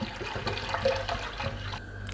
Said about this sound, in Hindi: अब हम एक पैन लेंगे और इसमें 3 ग्लास के लिहाज से हम पानी शामिल करेंगे।